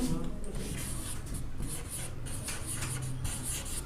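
Chalk or marker scratching words onto a classroom board in a series of short rubbing strokes, steady and close, with a teacher speaking over it.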